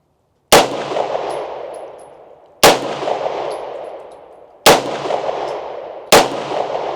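Four pistol shots fired outdoors at trash targets, each a sharp loud crack followed by a long fading echo, spaced roughly two seconds apart with the last two closer together, and no voices.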